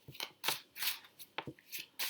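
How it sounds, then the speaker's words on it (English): Crisp, papery riffling of tarot cards being shuffled in quick bursts, close by and fairly quiet, with short pauses between each pass. "Let's give them a shuffle first."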